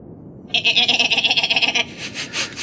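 A giant goat lets out one long, loud, wavering bleat with rapid tremolo, close up, followed by a few softer breathy grunts and no talk.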